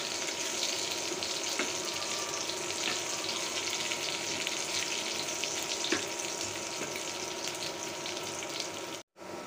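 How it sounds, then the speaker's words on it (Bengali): Chopped onions sizzle in hot oil in a home kitchen pan, a constant close frying hiss with faint stirring clicks, cooked until golden brown for a Bangladeshi green mango lentil dal. "গোল্ডেন ব্রাউন করে ভেজে নিব"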